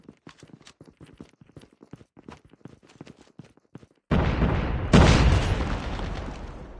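A Call of Duty grenade goes off during a bomb-objective match: several seconds of light rapid tapping give way to a sudden heavy blast, then a second booming burst that rumbles and slowly fades.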